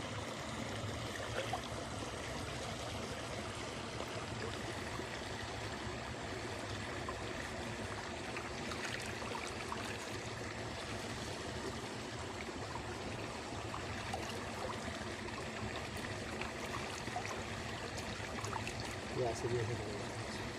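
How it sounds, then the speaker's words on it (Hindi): Running water from a tap or jug splashing steadily during wudu ablution as feet are washed, a continuous near trickle and stream with a voice talking over it. "इस तरह आप वज़ू करें, दायां पैर अच्छी तरीके से धोएं"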